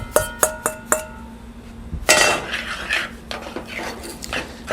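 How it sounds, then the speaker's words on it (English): Pasta goes into a pan of cheese sauce for macaroni and cheese, starting with four ringing metallic clinks and then a burst of clattering and scraping against the pan, close and fairly loud. "We're going to go ahead and add the pasta to this."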